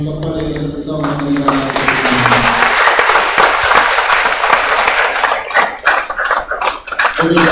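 Congregation applauding couples at a 25-year marriage jubilee Mass in a church: after a brief opening of voices and tones, dense clapping swells and continues, thinning toward the end.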